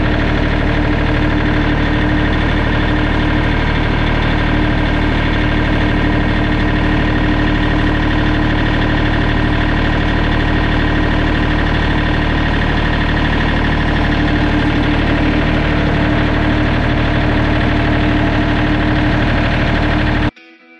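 A tractor engine idles steadily beside a wood pile for about twenty seconds, a loud, even, continuous drone with no voices, then cuts off abruptly at the end.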